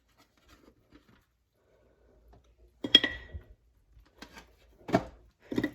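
A knife cutting hardened rendered tallow into pieces, a few sharp scraping and knocking cuts with quiet pauses between them, close and fairly soft.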